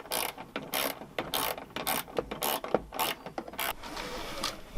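A ratcheting wrench works a bolt on a bracket of a 1999 Mitsubishi Montero, giving repeated quick metallic clicking bursts in an uneven rhythm, close and fairly loud, with no talking.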